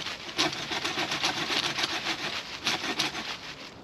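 A small, short hand saw rasps steadily through hard wood in quick, even back-and-forth strokes, close up, with no talking.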